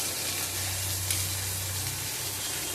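Parshe fish going into a simmering eggplant curry in a pan, giving a steady broadband sizzle and bubbling hiss that stays even throughout, with a low hum underneath.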